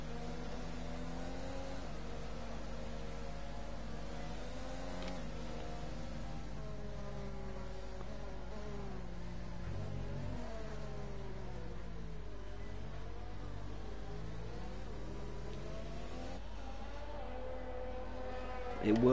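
Safety car engine in a Formula racing video game: a constant droning engine hum with shifting tonal bands that rise and fall as the car is driven, running steadily throughout at moderate loudness.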